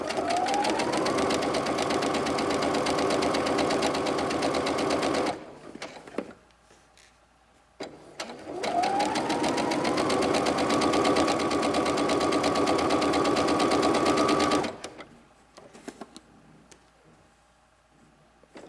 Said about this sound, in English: we're just gonna sew along that entire edge